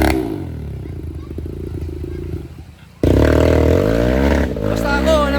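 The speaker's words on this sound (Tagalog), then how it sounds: "Ungol lahat ng motor dito mga idol." Enduro dirt bike motorcycles on a trail ride in Aringay, La Union, Philippines, revving loudly and steadily, with the engine roar jumping higher and fuller about midway and holding there.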